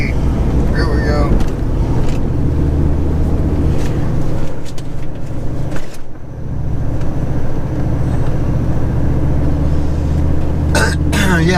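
A Force 120 hp outboard boat engine runs steadily at close range, a constant low drone throughout with a brief dip near the middle, while people talk over it.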